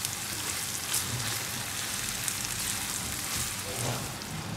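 Lamb tripe sambal sizzles and crackles steadily in a hot pan, a continuous close frying hiss with no talking.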